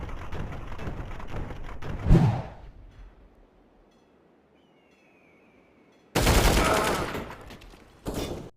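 Gunfire in a shooting video game, a sustained burst of rapid shots, then a quieter lull with a faint whine, followed by two more loud bursts of firing.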